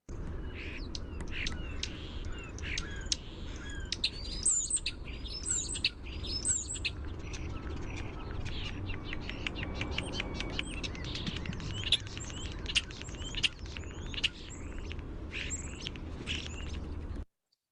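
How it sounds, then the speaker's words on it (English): A recorded European starling calls in quick runs of whistles, clicks and chattering notes, moderately faint and continuous with no voices over it. "So what you may notice about the starling's call"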